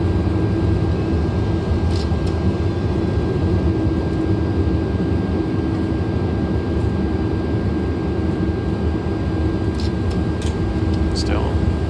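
Steady roar of airliner engines as an A330 lands in Microsoft Flight Simulator with thrust reversers deployed, a dense continuous rumble with a faint high whine, playing under a voice.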